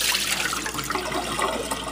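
Water poured out of the bottom tray of a sprouting tray setup, a steady rushing splash lasting a couple of seconds, close and fairly loud with no talk.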